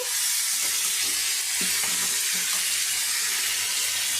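Potatoes fry in a pan over a high flame, a loud, dense, steady sizzle with faint clinks underneath and no talking.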